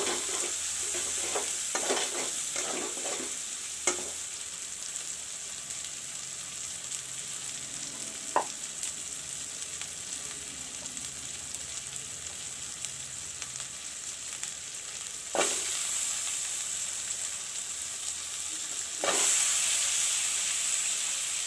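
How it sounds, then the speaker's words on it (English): A medium tomato goes into browning masala for a drumstick and potato curry, setting off a steady close sizzle and hiss of frying with intermittent scraping stirs and a few sharp spoon clinks, no talk. "I have taken 1 medium sized tomato and I will add it now to the masala."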